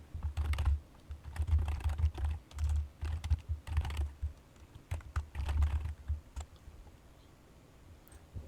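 Python code is typed on a computer keyboard in quick bursts of close key clicks separated by short pauses, with the tapping thinning out and going quiet toward the end.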